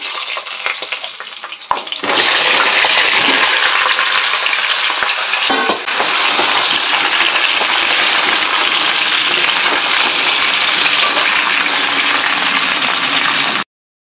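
Potatoes dropped into hot oil in a wok set off a sudden loud, hissing sizzle that keeps going strongly for several seconds, broken by a stir, heard close with no voices.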